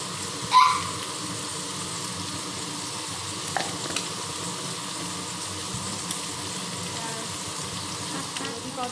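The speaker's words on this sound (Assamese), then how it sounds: "অকণমান ৰংচঙীয়া হোৱালৈকে ফ্ৰাই কৰিম মই একেবাৰে ল' ফ্লেমত থৈ দিছোঁ" Pork pieces frying in oil over a low flame, salted, for an Assamese pork dish with elephant apple; a soft, steady sizzle runs throughout, faint and close, with one brief clatter near the start.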